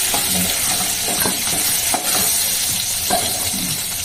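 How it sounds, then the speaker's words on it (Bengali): Shrimp stirred in a hot frying pan, a steady loud sizzle of oil with repeated scraping stir strokes throughout, no talking. "চিংড়ি মাছ তো একটু নাড়াচাড়া করলেই হয়ে যাবে"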